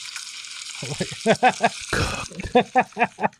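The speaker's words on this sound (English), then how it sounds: "Is that a sizzling sound effect" Crackling sizzle, like food frying in a pan, runs under a voice speaking in short bursts.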